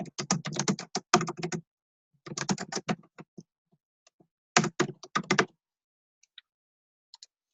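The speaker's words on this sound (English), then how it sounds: "I'm just typing in the name of the page and I'm pressing save." Typing on a computer keyboard while entering a page name in a website builder: close, crisp key clicks in quick bursts separated by pauses, with a few isolated taps near the end and no voices.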